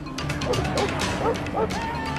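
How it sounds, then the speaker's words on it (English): A police dog barks and yelps in short, excited bursts during a suspect's capture, several sharp barks against a noisy, busy outdoor background. "an officer with a police dog trips the suspect"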